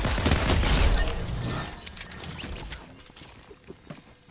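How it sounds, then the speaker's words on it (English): Gunfire in the Fortnite video game: a loud, dense burst of shots up front that tapers into a few scattered, fainter cracks and clicks, with no voices over it. "I'm getting shot at"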